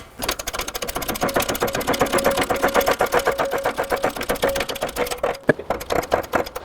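A press slowly forcing a new front wheel bearing into the hub of a 2009-13 Mazda 3, heard as a steady, close mechanical buzz with rapid even pulsing and a faint tonal whine, continuous for several seconds.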